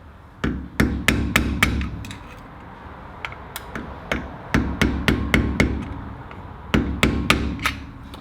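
Hammer blows flatten a lock washer tab against the locking nut on a Land Cruiser 80 front hub: sharp metallic strikes in quick bursts of four or five, pauses between groups, close and loud with no talking.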